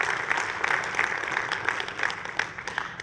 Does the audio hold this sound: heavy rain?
no